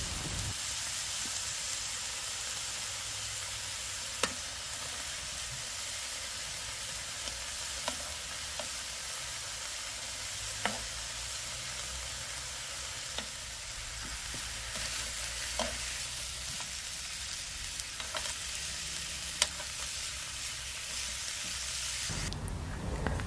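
Marinated steak sizzles steadily in a frying pan on a camping stove at a campsite, a continuous close frying hiss with occasional pops and crackles throughout, no talking.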